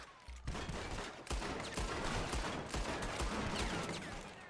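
Rapid gunfire from the hip in Red Dead Redemption, a quick run of close, sharp revolver-like shots in an irregular volley over low background ambience, with no talking.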